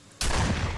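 A single sharp shotgun blast in the Friday the 13th video game, going off abruptly after a brief quiet moment and ringing out loud and close.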